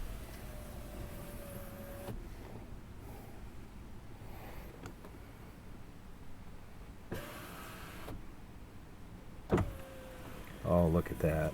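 The power window of a 1999 Mercedes ML320 runs in several separate spells, each a thin, steady electric motor whine at moderate volume, with pauses and small handling noises in between.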